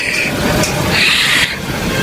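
A train passes on railway tracks as a radio drama sound effect, a loud, steady roar of rumble and hiss that swells and shifts without pause.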